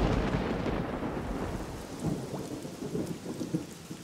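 Steady rain with rolling thunder outdoors during an estate sale, a loud continuous downpour with deep rumbles throughout.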